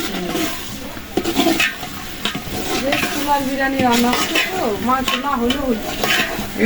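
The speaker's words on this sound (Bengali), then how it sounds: "ছোলাটা আগে এলাম ভালো করে একটু ভোনা ভোনা করে নেবো" Chickpeas fry and sizzle in a pan while being stirred for chicken chickpea biryani, with a continuous hiss broken by scraping strokes of a spoon, close and fairly loud, and a voice speaking briefly.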